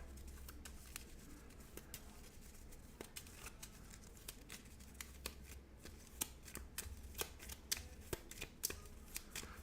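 A deck of Marvel Champions cards is shuffled at a tabletop game: repeated crisp riffles and snapping card flicks, irregular and close, fairly quiet with no talking over them.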